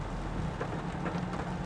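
Rain falls steadily on a car driving through a forest near the Sinks, a soft, even patter with low rumbling underneath, fairly faint and continuous, with no voices.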